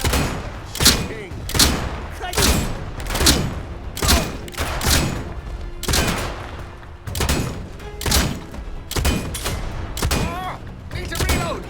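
Gunfire in the video game Atomfall: about a dozen heavy shots, a second or so apart, each booming loudly and ringing out before the next, with talk mixed in.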